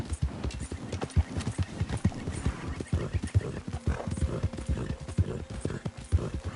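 Horse hooves clop in a steady trotting rhythm in Red Dead Redemption 2 on PS4, close and continuous, with a faint snort or whinny mixed in.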